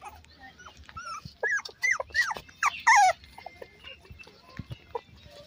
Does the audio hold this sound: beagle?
yes